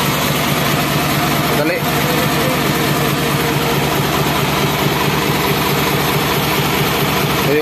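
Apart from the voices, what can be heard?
truck engine idling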